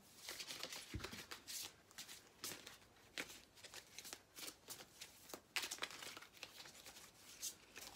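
Cards shuffled for a tarot reading, a steady run of rapid papery riffles and soft crinkly flicks lasting throughout, close and fairly quiet with no talk.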